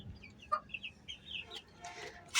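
A hen clucks in short, faint bursts from a little distance, several soft clucks spread across a quiet outdoor background.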